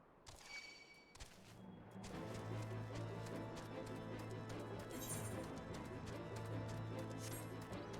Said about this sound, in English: This chocobo sounds scary.